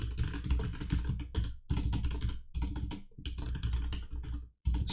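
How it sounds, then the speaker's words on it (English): Fast typing on a computer keyboard fills the scene with dense, close clicks in quick bursts and short pauses. No one talks. "this is an awkward position to be typing in"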